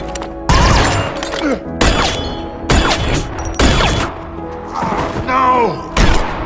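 Sniper gunfire in a gangster shootout from Free Fire, about six loud, sharp shots and bursts spaced roughly a second apart, each with a booming echo and ringing tail.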